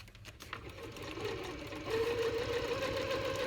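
Sewing machine stitching an embellishment onto a junk journal, a close, fairly quiet mechanical whir that speeds up and holds steady after a soft start.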